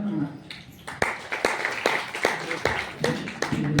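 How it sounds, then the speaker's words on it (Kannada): An audience at a devotional discourse gives loud applause: irregular sharp claps build into a continuous clatter of clapping from a crowd, close and dense throughout. "ಜೋರಾದ ಚಪ್ಪಾಳೆ."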